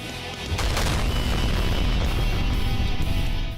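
A villager bursts apart in Skyrim with a loud, sustained roaring blast that holds for about three seconds before cutting off sharply.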